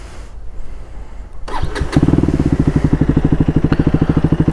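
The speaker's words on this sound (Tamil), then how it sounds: "இருங்க நம்ம ஆன் பண்ணி காட்டுறேன். ஐடில் சவுண்ட் எப்படி இருக்குன்னு பாருங்கள்." KTM Duke 250 Gen 3 motorcycle with a modified exhaust cranks briefly, fires up and settles into a loud, close, rapid thumping idle.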